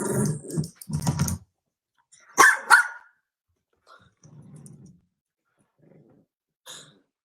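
A dog gives a few sharp barks and a short growl with pauses between them, close and fairly clear against a quiet background.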